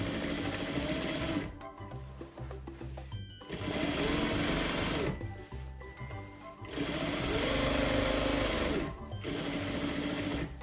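A sewing machine stitches fabric for a waterproof portable baby changing pad with bias binding, running loud and close in three sustained bursts separated by short pauses.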